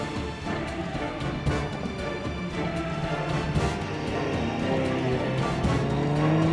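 A Triumph motorcycle and an Alfa Romeo car race on a track, engines droning steadily and fairly loud with rising revs and faint tire noise toward the end.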